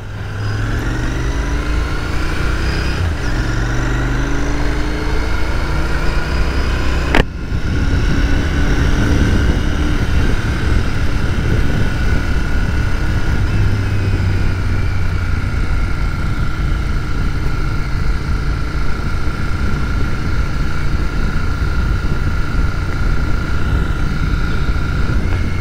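A Royal Enfield Continental GT 650 motorcycle ridden on a test ride, its engine droning steadily and loudly with rising and falling pitch as the revs change, alongside a continuous rush of wind noise.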